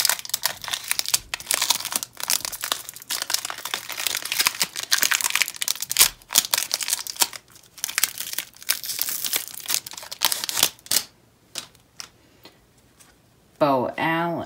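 Panini collegiate Wisconsin Badgers football card packs being torn open, wrappers crinkling and crackling in steady close bursts for most of the clip, with a voice talking briefly near the end.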